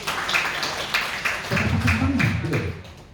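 Applause from a church congregation after a sermon passage, a few seconds of scattered hand claps that swell into fuller clapping, with a voice speaking over it.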